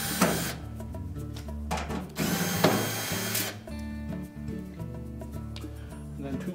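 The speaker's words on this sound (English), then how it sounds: "We'll start by taking these two short screws out on the bottom." A power screwdriver backs screws out of the rear panel of a Whirlpool washer, whirring in several loud bursts with pauses between, close up.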